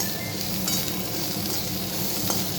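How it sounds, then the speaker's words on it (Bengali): Soybean chunks and chicken fry in hot oil for a pressure cooker biryani, giving a steady, close sizzle with a couple of faint clinks from stirring and no talk. "এগুলো ব্রাউন হওয়া পর্যন্ত ভেজে নেবে।"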